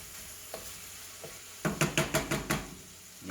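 Food stirred around in a hot pan, first a couple of faint scrapes, then a run of six or seven quick, fairly loud scraping strokes over a steady low sizzle, with no talking.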